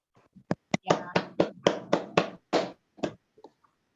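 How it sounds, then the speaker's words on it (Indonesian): Classroom applause for a student after her group presentation: about ten sharp, separate hand claps in an uneven rhythm, fairly close and moderately loud, fading out with a couple of softer claps at the end. "Tepuk tangan untuk Amrita"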